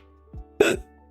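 A single abrupt hiccup, close and sharp, preceded by a faint catch of breath, over a quiet steady hum.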